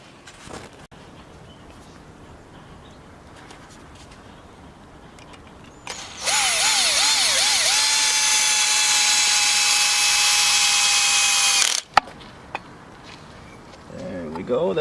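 A power drill drives screws into an end bracket for a sawmill setup, a loud continuous whine lasting several seconds with a pitch bend at the start, framed by quieter background and brief speech.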